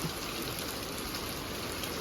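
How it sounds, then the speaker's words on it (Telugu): Heavy rain pours steadily in Madanapalle, India, a dense, even hiss of drops hitting surfaces with no letup and no voices. "ఏమైనా వర్షమే ఇప్పుడు గట్టిగానే పడుతుంది"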